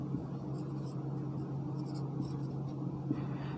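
Pen or pencil scratching out a single word by hand on paper, steady soft scraping against a constant low hum, with no voice over it.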